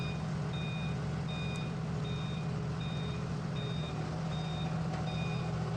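A vehicle in reverse gear gives a steady series of evenly spaced electronic reversing beeps over a constant low engine rumble, all fairly loud and close, with no talk.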